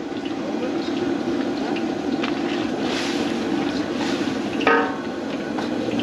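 A pot of meat stew bubbles at a steady rolling boil, a constant dense hiss and burble with a brief clink partway through.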